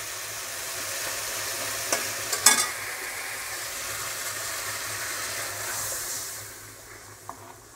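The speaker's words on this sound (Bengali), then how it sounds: "এবার আমি এর মধ্যে জল দিয়ে দেব।" Water hits a frying curry of mourala fish with green banana and potato, raising a loud, steady sizzle. A few sharp clacks of a stirring spoon cut through early on, and the hiss eases slightly at the end.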